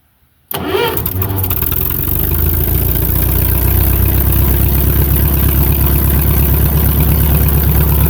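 An old tractor engine cranks and catches after a moment of near silence, then settles into a loud, steady idle with a rough, rhythmic throb, recorded close and with no talking. The exhaust is rusted through on its underside.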